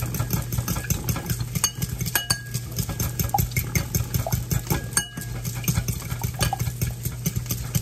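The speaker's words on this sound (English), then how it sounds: "I'm gonna whisk the old-fashioned way, like how they did it before we had a whisk, the fork" A fork whisks briskly in a bowl while burgers, gravy and mashed potatoes are being cooked, giving a steady run of rapid clinking taps against a constant low hum.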